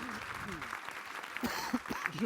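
An audience at a formal young bar association ceremony applauds the newly elected bar president, a short steady patter of clapping under a speaker's voice, fairly faint and distant.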